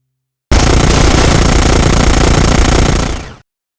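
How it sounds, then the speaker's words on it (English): Gunfire from the shooter Crossfire Sierra Squad: a single loud, close, sustained automatic burst lasting about three seconds, then cutting off sharply into silence. "The guns sound punchy and the volume levels are on point."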